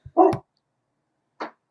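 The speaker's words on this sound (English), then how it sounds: "that was my dog barking at another dog crossing the street" A pet dog barks at another dog crossing the street, giving one sharp, loud bark and then a single shorter, softer bark after a pause, with silence around them.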